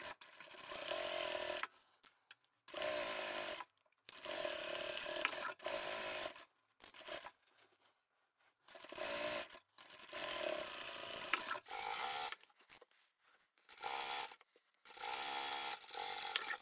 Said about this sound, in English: We'll sew the bottom edges